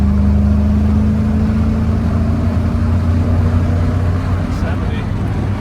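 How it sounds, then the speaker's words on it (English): A 1940 Ford pickup street rod's new engine drones steadily at highway speed, a continuous low hum with road rumble throughout, loud and unbroken from start to finish. "this new engine Runs strong"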